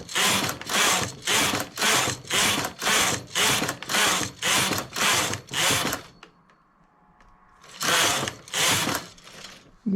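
A knitting machine makes about eleven evenly spaced, loud whirring carriage passes, falls quiet for a couple of seconds, then makes two more, with no voices.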